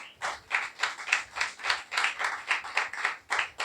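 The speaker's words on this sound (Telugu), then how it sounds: "చప్పట్లు కొట్టాలి ఒకసారి." A church congregation claps at a sermon, a rhythmic burst of many hands beating in steady pulses about four per second, moderately close and without talk.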